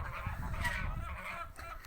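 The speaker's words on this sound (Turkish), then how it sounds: "Kazlar tavuklar böyle dışarıda." Geese honk nearby in a short, continuous burst of raspy calls.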